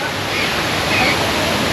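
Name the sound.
big waterfall at Singapore Bird Paradise wetlands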